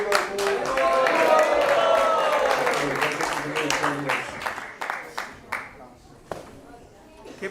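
Applause and clapping from an audience at a Hindu temple gathering, loud and sustained at first, then thinning into scattered claps while someone speaks over it.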